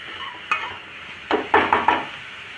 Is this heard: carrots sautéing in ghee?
yes